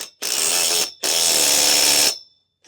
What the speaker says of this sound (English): put the nut on and tighten this down using our 1/2" socket